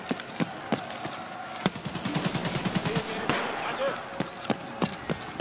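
Gunfire in the video game Escape from Tarkov Arena: rapid bursts of automatic shots and single cracks, loud and close, with a player's voice talking over parts of it.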